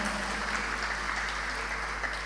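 Steady, even applause from an audience at a Jain religious discourse, greeting the Delhi Ahinsa Vihar women's group; a dense, moderately loud patter with no pauses, over a faint electrical hum.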